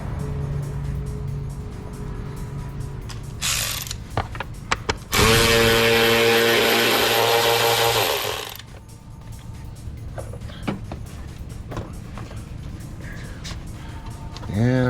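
Power tool whirring in short bursts and then a sustained run while pulling fasteners from the air box of a 2021 Jeep JL, with a ratcheting mechanical buzz, close and loud, and someone talking between bursts.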